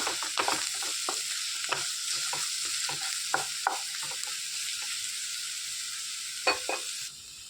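Onion mixture with turmeric sizzles steadily in hot oil for a phool makhana masala gravy, close and continuous, with repeated scraping clicks of a spoon stirring the pan and no voices.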